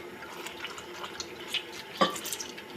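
Wet squelching and sloshing as fruit peels are squeezed by hand in water, with a few small drips and splashes, close and steady.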